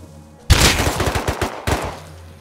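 Point-blank gunfire in the game Rust, including a pump shotgun: a loud, close burst of rapid shots followed by one more sharp blast, then quiet.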